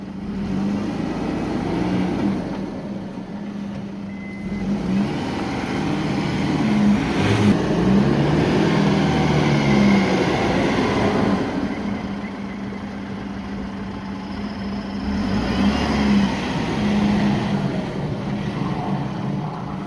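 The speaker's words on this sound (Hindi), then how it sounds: "तो अब हम गाड़ी को यहां से बाहर निकालते हैं।" A Force Gurkha BS6 off-road vehicle pulls out with its rear differential locked, a steady low engine drone with rumbling, wind-buffeted noise throughout and no talk.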